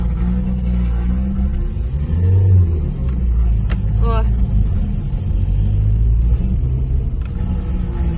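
A Chevrolet Chevette engine idling and lightly revving after a rebuild, a loud, close, low rumble with a brief rise in revs, while someone speaks a short word over it.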